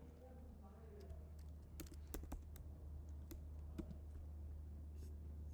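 Computer keyboard being typed on while entering a command, a quick run of soft key clicks over a steady low hum, faint and close.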